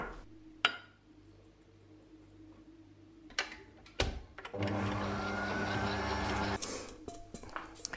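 Stand mixer fitted with a kneading hook works cold butter into flour, a steady whirring motor hum with a mechanical rattle rising midway and running for several seconds, preceded by a few sharp kitchen knocks.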